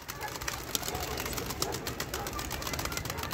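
Close wing flaps of a kılıç kanat tumbler pigeon in flight come in quick irregular bursts outdoors, with a person talking intermittently over them.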